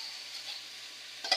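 Pinakbet with meat, tomatoes, onions, garlic and ginger being stirred in a Saladmaster 5-quart wok, a steady soft sizzle with faint scraping, ending in a brief louder clatter of the utensil.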